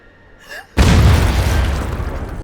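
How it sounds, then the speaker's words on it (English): A pirate-film cannon fires at point-blank range, one sudden massive boom after a brief quieter lead-in, then a long rumbling roar that slowly fades over about two seconds. "blasting him point blank with the cannon"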